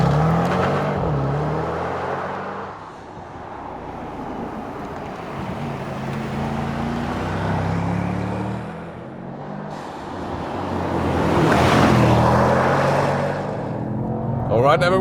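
A Mercedes-AMG GT 63 S E Performance hybrid drives hard on a racetrack, its loud, close engine note rising and falling through gear changes over steady wind and road roar.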